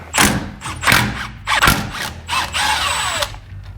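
A power tool undoes the ball joint nuts on a Mazda B2200 in loud, close, short whirring bursts: about four quick spins, each ending in a clunk, then a longer final run.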